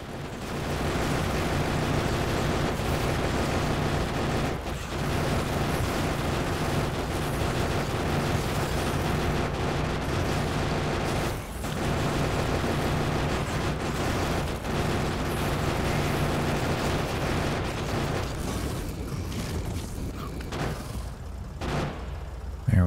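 Sustained automated gunfire in Factorio shooting at biters, a dense continuous rattle of shots and explosions lasting over twenty seconds with only a few brief gaps, loud and without any talking.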